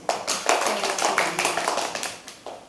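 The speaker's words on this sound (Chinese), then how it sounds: "那我们就掌声鼓励欢迎他" Audience applause in a Taichung conference room as a brand trainer is welcomed for a training session, a steady patter of many hands clapping that rises and falls over a few seconds.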